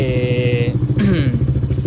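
A small motorcycle idles close by with a steady low putter, while brief tonal whirs and squeals rise over it for the first second and fade, with no talk.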